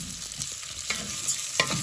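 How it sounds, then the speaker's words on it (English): Arborio rice for risotto sizzles steadily in a hot pan, with soft stirring scrapes over the constant close frying hiss. "And then here it'll start to sizzle"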